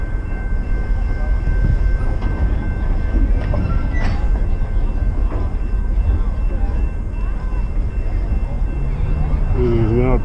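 A Beach Train heading to the wharf rumbles steadily along the rails, a loud continuous low roar with faint voices and a few clanks throughout.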